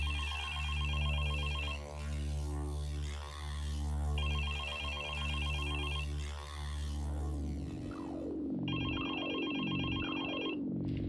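A flip phone ringing with repeated electronic ring bursts separated by short pauses, then a descending warbling tone and a brighter ring burst near the end, close and clear with no voices.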